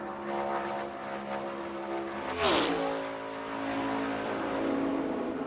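A NASCAR stock car on a qualifying lap at Kansas Speedway roars past with a sharp engine pitch drop as it passes close by, then its drone recedes, with a steady engine tone before and after.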